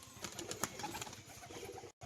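A female pigeon gives soft, faint cooing notes in a quiet setting, with a few brief flutters, cut off by a short gap near the end.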